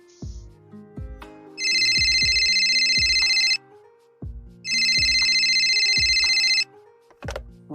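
A telephone rings through a call-in line on a radio general knowledge quiz show, two long sustained ring bursts separated by a pause, loud and close, with soft knocks and thumps in between.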